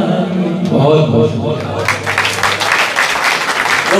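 An audience at a mushaira in London breaks into loud, sustained applause that fills the hall, following a voice that is heard first.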